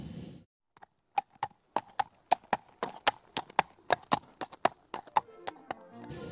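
Fairy-tale sound effect of a donkey's hooves walking on a hard road, a clear, close, steady clip-clop of about twenty hollow knocks in a slightly uneven rhythm.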